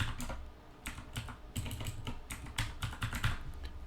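Someone types a password on a computer keyboard, a quick run of light clicking keystrokes in irregular bursts, close and quiet with no talk.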